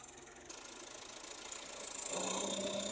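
Tractor spreading cow dung over a farm field, its engine running with a steady rattling rumble that swells louder toward the end, alone without talk.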